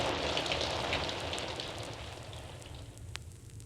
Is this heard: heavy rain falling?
yes